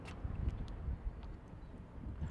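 Moderate gusty wind rumbles and buffets the microphone throughout at a charging stop beside a Volvo XC40 P8 Recharge, a steady low roar with a few brief knocks and no talking.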